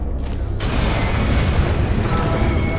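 A large mechanical bridge locks into place in Gears of War 2, a loud grinding, ratcheting rumble with a heavy clank near the start, then steady churning machinery close by without speech.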